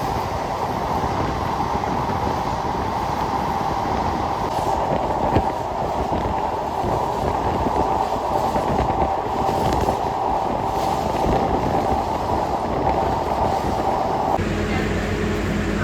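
A train crosses the Padma bridge at night, a steady loud rumble and rolling hum of wheels on rails heard from inside a carriage, continuous throughout with a shift in tone near the end.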